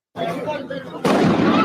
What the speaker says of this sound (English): Oh, that's a box full of fireworks.